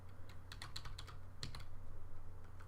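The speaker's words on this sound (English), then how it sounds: "I wonder if you can hear my keyboard." Computer keyboard typing in short bursts of close, crisp key clicks with brief pauses, over a low steady hum while someone plays a game.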